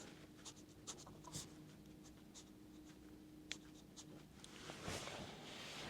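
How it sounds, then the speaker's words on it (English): A brush pen moves across sketchbook paper in an ink drawing, making faint scratchy strokes and soft taps in an irregular rhythm against quiet room noise. "Brush pen."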